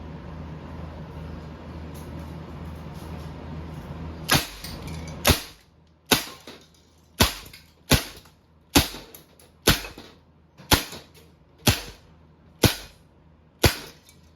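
About ten sharp shots from an Umarex HPP Compact air pistol, spaced roughly a second apart after a quiet start, each a crisp crack.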